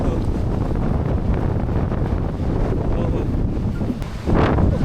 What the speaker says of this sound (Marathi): वारा एवढा आहे, आम्ही स्वतः हलतोय